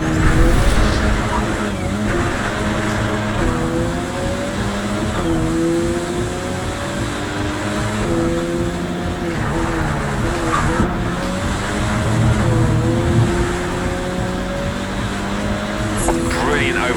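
Race cars roar through a final championship race in Project Cars 3, engines droning loud and steady with rising and falling gear-change whines, tire noise and a brief skid near the end.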